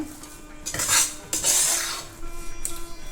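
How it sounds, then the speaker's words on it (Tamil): Cooked Annavaram prasadam is mashed with the back of a metal ladle in a pot, giving repeated scraping and squishing strokes with brief metallic rubs, close by and fairly quiet. "நல்லா கரண்டிக்கு பின்னாடி வச்சு நல்லா இப்படி மசிச்சு விட்டுக்கோங்க"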